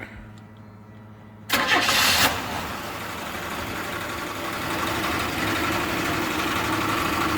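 A 46RE automatic transmission on a dyno rig fires up: after a quiet hum, a sudden loud starter burst kicks in, then settles into a steady, close idling drone with a slight rise in level toward the end.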